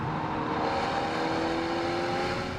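Small engine of a Mercedes CLA humming steadily under load while driving, a continuous mid-level drone with road and cabin noise and no pronounced rev spikes.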